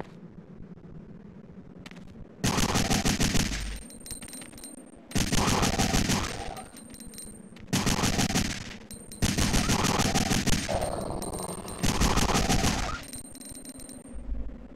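Gunfire in Resident Evil 3: Nemesis comes as five loud, roughly one-second bursts of shooting, separated by brief quieter gaps filled with low background hum.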